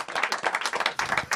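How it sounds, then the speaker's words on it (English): A studio audience claps in a brisk burst of applause, individual hand claps distinct and fairly close, steady for the whole short stretch. "give him a round of applause"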